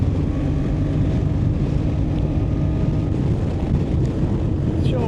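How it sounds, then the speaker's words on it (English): Strong wind roars steadily across the microphone on a moving motorcycle, a dense, constant buffeting rush that fills the whole clip with no let-up. "It is windy."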